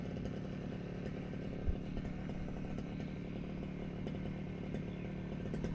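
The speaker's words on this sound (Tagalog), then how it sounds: "Grass cutter." A gasoline grass cutter engine runs steadily on a farm, a continuous buzzing drone heard at moderate distance with no talk over it.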